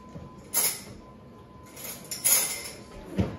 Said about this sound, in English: Let me see, I'm gonna get a spoon.